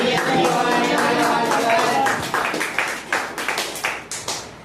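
A group clapping hands to cheer Diwali greetings at a residential home: voices chatter first, then separate sharp claps ring out in an uneven rhythm, fairly close.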